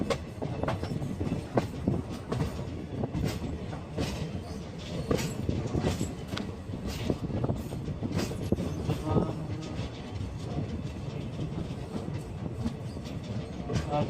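A passenger train runs on rails between Srinagar and Baramulla, heard from inside as a loud, steady rumble with rhythmic clattering of wheels over track joints throughout.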